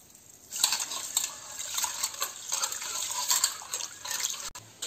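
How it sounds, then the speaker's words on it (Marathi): Raw rice grains rubbed and swished by hand in water, with irregular wet clinks, sloshes and drips close up, steady through most of the stretch and stopping near the end. "आता हे तुम्हाला पहिले मी तांदूळ धुवून दाखवते।"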